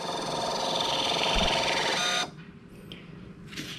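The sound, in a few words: WiFi thermal printer printing a receipt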